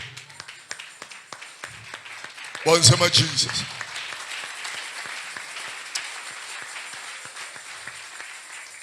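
A church congregation claps during a sermon by a preacher, scattered claps that thicken into a brief louder burst as a voice shouts over them, then settle into steady lighter clapping under continued talk.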